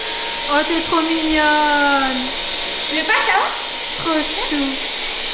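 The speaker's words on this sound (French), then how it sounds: "elle joue avec l'aspirateur" A household vacuum cleaner runs with a steady whirring drone throughout, while someone talks and a cat plays with the machine nearby.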